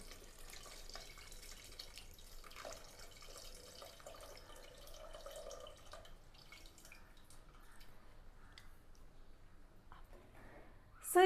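Tamarind water is poured into egg curry gravy, a faint, soft trickle and dripping of liquid that runs quietly for several seconds, with a louder clatter at the end.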